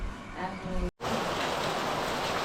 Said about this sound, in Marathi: इकडे ना मुसळधार पावसाची सुरुवात झाली आता